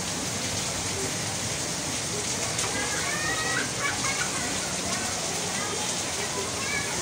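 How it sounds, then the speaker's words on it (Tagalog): Rain falls outdoors during a fishing outing as a steady, close, even hiss that continues without a break from start to finish. "pinakita ko lang to dahil sa umuulan na"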